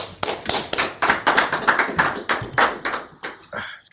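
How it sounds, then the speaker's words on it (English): A run of sharp hand claps from a small group indoors, bursting in quick irregular clusters for a few seconds before thinning out at the end. "Clap it up."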